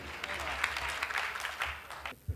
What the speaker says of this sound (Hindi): जोरदार तालियों से बलजीत कौर तन्हा जी को सुनो